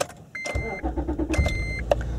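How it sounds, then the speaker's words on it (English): An Acura TL engine cranks and catches, turning into a close, steady idle rumble with a couple of brief electronic chimes over it. "So we're going to start the vehicle."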